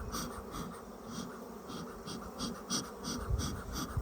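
Honey bees buzz steadily around an open hive during an inspection, a close, continuous drone with rising and falling pitch as individual bees pass nearby.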